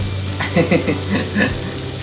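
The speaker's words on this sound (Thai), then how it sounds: "นี่ผมผัดพริกไทยหอมแล้ว" Black pepper stir-fried in a pan, with a steady close sizzle of frying and a few scraping stirs over it, and no voices.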